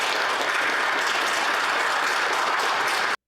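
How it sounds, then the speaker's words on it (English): Liberal MPs in the House of Commons applaud as Han Dong steps down, a dense, steady roomful of clapping that holds evenly throughout and then stops abruptly. "interesting show of applause from the Liberals as he steps down"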